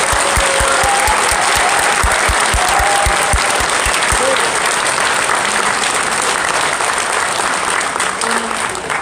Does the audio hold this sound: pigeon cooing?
no